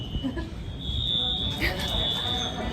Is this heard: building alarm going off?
yes